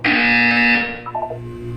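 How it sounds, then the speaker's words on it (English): A loud electronic buzzer blares close and harsh for under a second, then cuts off, leaving a brief fading ring. "When you hear the buzzer, look down at the floor"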